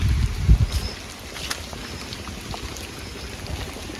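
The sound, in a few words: wind at the riverbank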